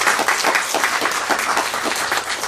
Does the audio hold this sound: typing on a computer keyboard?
no